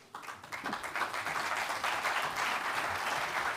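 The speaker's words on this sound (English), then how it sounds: "So please give them a round of applause." A risk management conference audience breaks into applause as speakers are invited onstage. After a brief quiet start, clapping swells quickly into steady, dense applause that carries on evenly.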